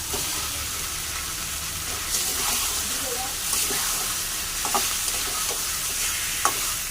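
Hilsa fish frying in oil with turmeric, salt and dry chili powder crackles in a steady, close sizzle, with scattered stirring clicks and a faint watery hiss.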